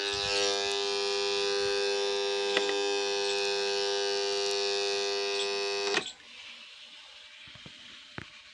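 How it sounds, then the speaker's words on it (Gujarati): A farm water pump's electric motor running with a steady loud whine and hum, cutting off abruptly, leaving quiet outdoor ambience with a few faint knocks. "આપણે આવી ગયા છે મોટર બંધ કરવા માટે અહીંયા ઓવડીમાં"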